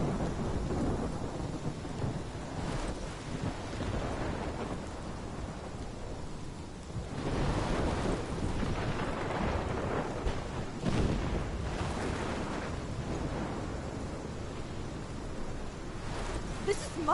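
A thunderstorm in the video game Life Is Strange brings steady heavy rain and a broad noisy wash, with rolling thunder swelling in the middle and building again near the end.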